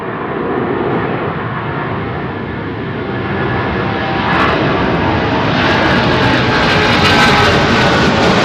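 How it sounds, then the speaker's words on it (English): Jet airliner engines departing London Heathrow runway 09R: a continuous loud, deep roar that swells gradually and brightens with rising hiss toward the end, with no voices. "The deep growl of those engines"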